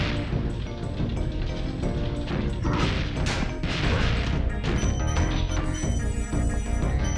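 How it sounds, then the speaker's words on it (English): Spyro the Dragon in Gnorc Cove ramming enemies and setting off a chain of explosions: repeated crashing booms and clanking game effects over a busy, continuous music bed, loud throughout. "we have to ram that one. It's still quite satisfying to see them chain explode"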